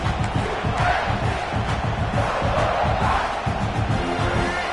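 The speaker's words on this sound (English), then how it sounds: "This crowd, full throat, sweating the eardrums and letting them know it's going to be a long day." A packed stadium crowd in the NCAA 26 college football video game roars steadily and loudly throughout, a dense unbroken wall of cheering with no pauses.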